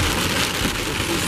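Heavy rain drums loudly and steadily around a car driving on a road trip, a dense continuous wash of noise with no voices.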